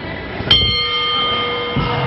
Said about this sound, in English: Well, there's the bell, and time has elapsed.